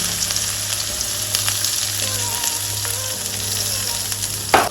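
Chopped onions sizzling in hot oil for chicken roast, a dense, steady frying hiss up close with a faint low hum underneath and a brief louder stir near the end.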